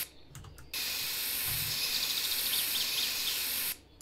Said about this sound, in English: And let's spray the car now.